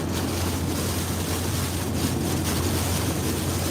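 Hurricane Nicole's wind and surf roar at West Palm Beach, Florida, as a loud, unbroken wash of gusting air and crashing waves buffeting the microphone.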